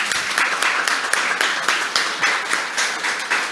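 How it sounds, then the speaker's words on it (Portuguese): Church congregation clapping together in steady, dense applause that fills the room evenly from start to finish, loud and sustained with no talking over it. "Vamos dar uma salva de palmas para Jesus"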